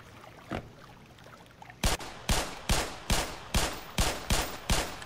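Gunfire in the shooter Black Mesa: an isolated shot, then a steady run of eight loud, evenly spaced shots, close and sharp, with no talk over them.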